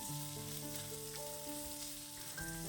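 Chopped onion sizzling in a hot pan while being stirred for a dosa chutney, a continuous close frying crackle with steady scraping motion and no voices.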